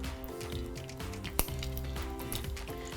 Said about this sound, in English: you just kind of want to hear that gentle sizzle